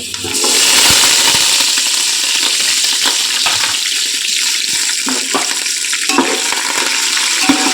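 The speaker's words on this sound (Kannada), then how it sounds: "ನೋಡಿ ಇವಾಗೆ ಶೇಂಗಾ ಫ್ರೈ ಆಗ್ತಾ ಇದೆ" Peanuts fry and get tossed in a pan for mandakki, a loud, continuous crackling sizzle with frequent stirring scrapes and clinks, close and without talk.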